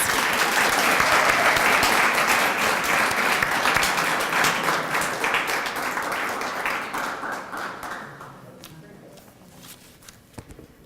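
Sustained audience applause at a community recognition program, loud and dense at first, then thinning and fading over the last few seconds into scattered claps.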